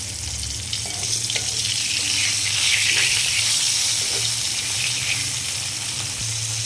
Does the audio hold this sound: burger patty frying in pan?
yes